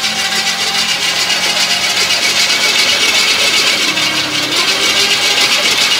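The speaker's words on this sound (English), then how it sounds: "She's gonna press the starter button, and this should hopefully rotate quickly with no compression." A 1951 Chevy 3100 pickup's 327 engine is turned over by the starter with its spark plugs removed. A loud, close, steady cranking whir runs evenly for several seconds without interruption.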